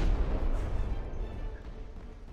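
Turret on a vessel in the From the Depths combat game taking gunfire hits, heard as a dense, continuous rumble of heavy booms and blasts at steady loudness.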